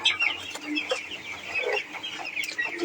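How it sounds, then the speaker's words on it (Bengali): Young broiler chickens cluck and cheep steadily at a small backyard poultry farm holding about a thousand chicks, a busy, close flock chorus with no talk. "নুরুল ইসলাম তিনি তার বাড়ির আঙিনায় ছোট্ট একটি ব্রয়লার পোলট্রি মুরগি ফার্ম করেছেন"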